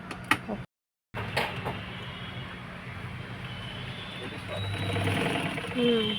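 A sewing machine runs in a steady whirring, rattling stitch after a brief cutoff, close and moderately loud, with faint speech at the start.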